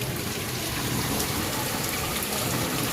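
Heavy rain with big, fat drops pours down steadily in a dense, continuous hiss and patter, close by and unbroken, with no voices.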